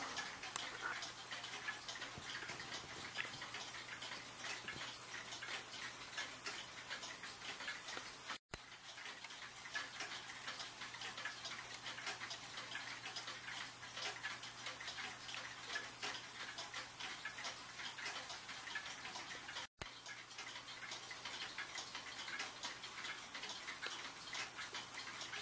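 Grasshopper escapement longcase clock ticking, a faint, steady rapid tick-tock running throughout, with two brief breaks.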